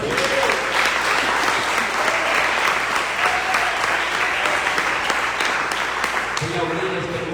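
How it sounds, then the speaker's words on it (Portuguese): A church congregation at an Apostolic evangelical service in Manaus claps together in sustained, dense applause that carries on at full strength for several seconds before tapering slightly near the end, with voices mixed in. "aplauda o Senhor"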